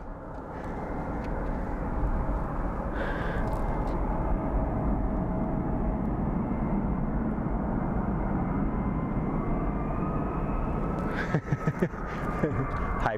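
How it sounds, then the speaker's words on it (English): A business jet moves around Sky Harbor International Airport in Phoenix, its steady engine roar filling the whole stretch at moderate distance, with brief clattering noises near the end. "And there's our business jet."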